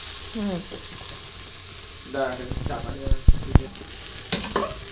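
Chow mein noodles fry in a wok in a village home kitchen: a moderate sizzle runs throughout, with sharp clatters and scrapes from stirring and brief voice-like sounds near the start and middle.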